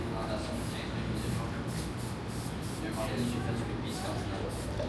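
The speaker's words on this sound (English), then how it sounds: "there's some guys actually spray painting the alley right now" Aerosol spray paint being sprayed onto an alley wall in a Toronto alley, a steady hiss running beneath continuous street ambience and background chatter for the whole stretch.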